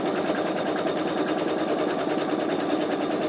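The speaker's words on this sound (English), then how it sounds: "it is going to now do zigzag, and then it will do the satin stitch" An embroidery machine sews a zigzag stitch on an in-the-hoop wallet, giving a loud, continuous rapid mechanical whir and needle clatter close by, steady throughout without pauses.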